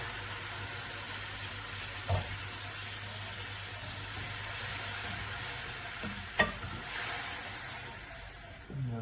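Tomato paste sizzles in a pan for chicken macaroni, a soft, steady frying hiss with a couple of sharp clinks from stirring, heard close and alone.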